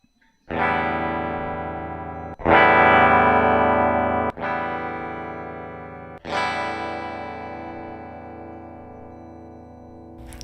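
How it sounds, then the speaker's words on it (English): Electric guitar strummed four times, each distorted chord ringing out loud and sustained for a couple of seconds before the next strike, no talking. "Simple test where I strum each guitar and see how long it rings."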